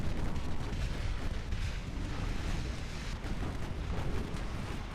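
Torpedo hits sinking a light cruiser in the naval game Ultimate Admiral Dreadnoughts, a sustained low rumbling roar of explosions and heavy detonations rolling on without pause, fairly distant and steady.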